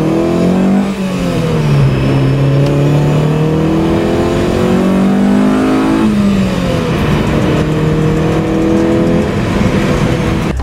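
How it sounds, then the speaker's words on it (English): A lowered Honda car driving and revving, heard up close: the engine note climbs and falls in repeated rising and dropping pitch sweeps, loud and continuous throughout. "You guys probably haven't heard this car drive in quite some time"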